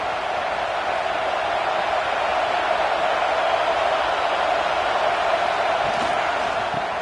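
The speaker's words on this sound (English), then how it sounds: "Listen to the crowd energy here in the early going." Dense, steady roar of a football stadium crowd at Texas versus Ohio State, a season opener in August 2025, filling the air evenly and loudly for several seconds without break.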